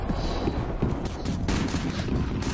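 Rapid gunfire from the online shooter Black Squad, a dense burst of overlapping shots that continues steadily and loudly through the whole moment with no speech.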